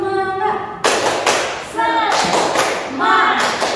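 Children clap in a rhythmic routine at a Sunday school service, sharp close claps mixed with voices chanting in time.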